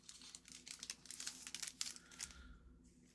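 Foil trading card packets for Marvel Spider-Man cards are opened up close, their wrappers crinkling and tearing in quick bursts before the rustling settles into a quieter handling sound.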